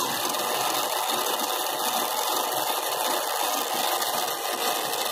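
Differential gearbox mechanism running steadily with one wheel held stopped while power passes to the other, giving a continuous whirring, grinding mechanical drone at constant level with no pauses, close by.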